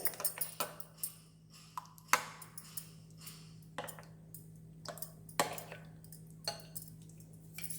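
A spoon stirs salt into raita in a bowl, giving a run of soft scrapes and light clinks, near and quiet, spaced irregularly, with no talk.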